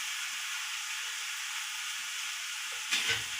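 Steady loud sizzle of onion masala frying in a pan, a hot continuous hiss that flares briefly near the end as tomatoes go into the pan, with no talking.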